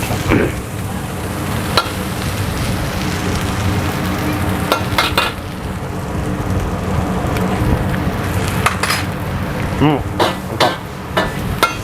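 Stir-frying in a wok as butter is added: a dense, loud sizzle runs throughout, broken by repeated sharp metallic clanks and scrapes of the spatula against the pan, with faint voices in the background.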